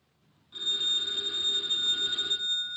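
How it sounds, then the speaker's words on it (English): An old-fashioned telephone bell rings continuously with a bright, metallic trill, close and clear, for a little over two seconds. "the ringing of that phone bell means adventure."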